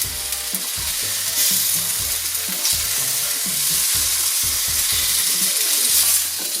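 Bean sprouts, tofu and prawns are stir-fried in a hot pan for beef chow fun, making a loud, dense sizzle with rhythmic scraping and tossing close up.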